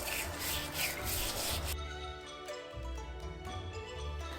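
A hand gently rubs and massages a whole raw chicken, giving a close, continuous soft rubbing and squishing texture that shifts partway through, with no talk.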